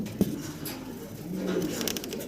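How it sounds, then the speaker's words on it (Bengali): A pair of white and black long-face fancy pigeons coos softly and close by, with a low murmuring call over faint background noise. "একজোড়া লং ফেস কবুতর হোয়াইট এবং ব্ল্যাক দেখতে পারতেছেন"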